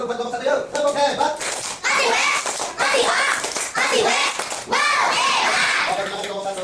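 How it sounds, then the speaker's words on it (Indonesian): Schoolchildren in a classroom clap a rhythmic cheer pattern in bursts for a student group, with a teacher's voice and children's voices mixed over the claps. "Kita tepuk hebat dulu buat kelompok 1 yuk."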